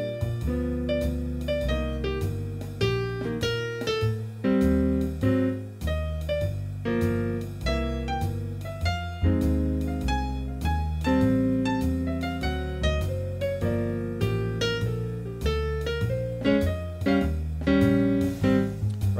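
Solo jazz piano improvises over a standard, with a steady left-hand rhythm under busy right-hand lines, played continuously and fairly loud for about twenty seconds with no talking.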